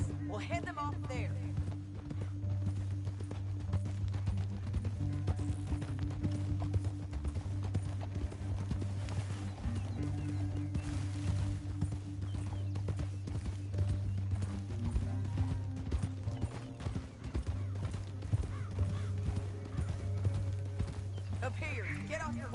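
Horses galloping in Red Dead Redemption 2, a steady rhythmic clip-clop of hooves running throughout with a low rumbling game soundtrack beneath, and characters talk over it at times.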